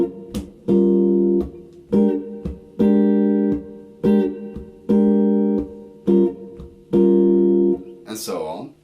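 Jazz blues colour chords on a guitar, strummed in a straight rhythm: eight sustained chord hits about a second apart, each ringing briefly before the next, ending in a short scrape.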